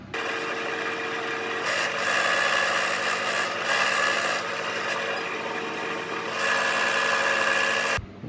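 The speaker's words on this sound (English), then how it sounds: "So I'm gonna go ahead and drill them holes out, get them weights placed in there." A small drill bores holes in a handmade perch lure for weights, a continuous high whining buzz that holds steady at close range before cutting off abruptly at the end.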